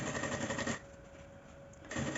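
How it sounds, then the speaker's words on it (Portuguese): A sewing machine stitches the side seam of a small fabric baguette bag, a rapid mechanical whirring that runs briefly, pauses for about a second, then resumes, fairly quiet. "Agora, eu vou descer, costurar até lá do outro lado."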